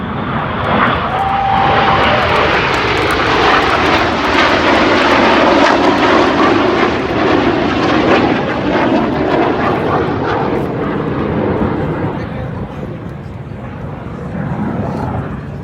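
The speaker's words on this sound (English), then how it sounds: "Red 1 about to bend the aircraft to the left, changing smoke colour as they go" Red Arrows jets flying the Tornado formation manoeuvre at an air show, a loud, close, broad roar that swells and holds before slowly fading as the aircraft pass, with no one talking.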